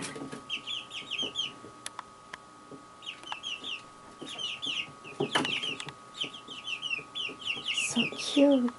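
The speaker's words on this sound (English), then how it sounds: "Look at the cute little yellow bird this morning." A small yellow bird calls in the morning with repeated short, high chirps in quick bursts. The calls are moderately close over a faint outdoor background, and a louder call comes near the end.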